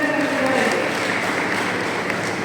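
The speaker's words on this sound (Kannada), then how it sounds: "ನಿಮ್ಮೆಲ್ಲ ಜೋರಾದ ಚಪ್ಪಾಳೆ" A crowd at a public gathering applauds loudly and continuously, dense clapping filling the whole moment with a faint voice beneath.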